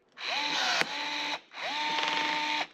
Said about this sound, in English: Never knew rivets were so easy.